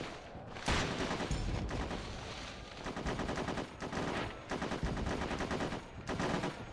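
Dense rapid gunfire in the PS2 video game Tom Clancy's Ghost Recon 2, loud continuous bursts of shots filling the clip with only brief gaps, no talk.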